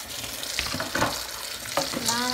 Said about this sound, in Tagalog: So, hugasan natin ito.